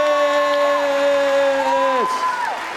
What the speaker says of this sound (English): Give them a big, big, big round of applause.